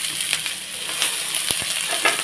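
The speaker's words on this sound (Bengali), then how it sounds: "মধ্যে হালকা আর একটুখানি তেল দিয়ে একটু পেঁয়াজ দিয়ে ফ্রাই করে নেবো এটাকে" Onion frying in a little oil in a pan, a steady crackling sizzle with scattered pops and a few stirring scrapes, fairly close and unbroken by talk.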